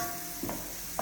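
Mushrooms, peppers and onions fry in a pan, a steady hiss of sizzling with a couple of soft stirring scrapes, close and alone without speech.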